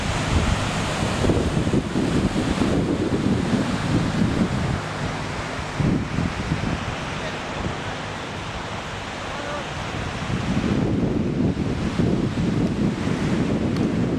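Ocean surf washes onto a beach in small one-to-two-foot white water waves under a light southeast wind, a loud continuous roar with surging swells and rumbling wind gusts on the microphone.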